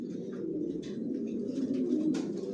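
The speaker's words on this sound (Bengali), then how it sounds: "আর আমার লফটে সবাই কিলেনের কবুতর পালি" Racing pigeons of Kielen Janssen grizzle lines crowd a home loft, their steady low cooing murmuring on and on with soft flutters and faint higher chirps over the top, no voices.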